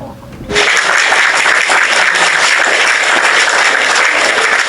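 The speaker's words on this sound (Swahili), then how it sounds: "Ebu, we clap for Alma." Applause for a person named Alma breaks out suddenly after a brief lead-in and holds loud and steady, a dense wash of many hands clapping together.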